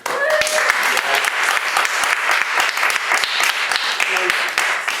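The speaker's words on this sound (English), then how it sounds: "Please, big round of applause for our film crew." Loud, dense applause for a film crew at a finale gathering, many hands clapping close by with sharp individual claps, and voices and cheers mixed into the steady roar.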